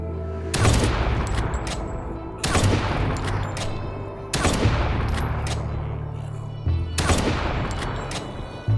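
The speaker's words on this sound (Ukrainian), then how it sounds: "Чотири постріли. Серйозно? 50-й калібр." Four heavy gunshots from a .50 caliber rifle in the zombie survival game HumanitZ, each a loud sharp blast with a long booming tail, spaced roughly two seconds apart, with no talking.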